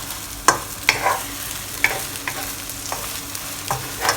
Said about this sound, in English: you can start moving your eggs around because we want to scramble the eggs.